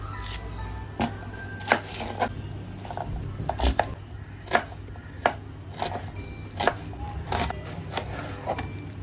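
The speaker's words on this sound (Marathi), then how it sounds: "लांब पातळ कांदे कापायचे लांब लांब कांदा कापायचा" A knife cuts onions into long thin slices on a board for a sai bhaji. Crisp, uneven chops strike close by, roughly one or two each second, over a low steady hum.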